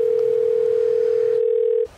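A steady telephone ringback tone hums continuously while a call is placed to someone inside a house who is not answering the door, then cuts off abruptly near the end, leaving quiet room noise.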